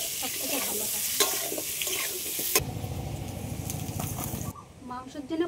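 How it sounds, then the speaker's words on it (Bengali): Potatoes with salt frying in a pan, a bright hissing sizzle with stirring scrapes at first, then quieter clinks and kitchen sounds as the frying fades. "আলুগুলো একটু লাল লাল করে ভেজে নেব"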